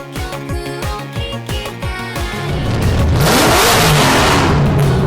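Nissan R34 Skyline four-door drift car at a UK track during JapFest 2017, first giving a series of sharp, rhythmic revs, then sliding into a sustained, loud, rising engine roar with tyre and exhaust noise.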